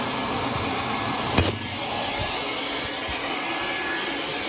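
A shop vacuum drones in a steady, loud whoosh during cleaning of a carbonized Weil McLain boiler, with one brief knock partway through and no talking.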